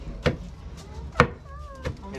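Cassava leaves pounded in a mortar by hand, three heavy, widely spaced thuds at a slow rhythm, close by, with faint background voices between strikes.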